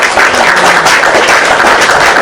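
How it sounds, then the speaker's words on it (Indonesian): An audience gives a loud, continuous round of applause at a live event with a host, many hands clapping densely and evenly throughout with no speech heard. "tepuk tangan"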